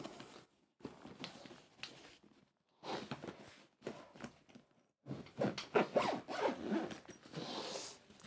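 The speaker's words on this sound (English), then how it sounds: "And then it zips up." Zipping up the travel case of a Yamaha SVC-210 silent electric cello, several long raspy zipper pulls in separate bursts with short pauses, close and clear.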